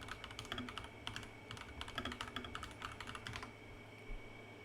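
Quiet rapid typing on a computer keyboard, a close clatter of uneven key taps that runs for a few seconds and then stops, with no voices.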